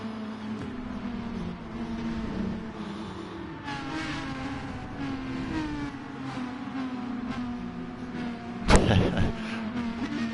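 Racing cars run a tribute lap at a Bathurst event. Engines rise and fall as they rev and pass at a distance, with a sharp loud crack near the end.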